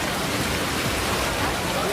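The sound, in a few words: heavy rain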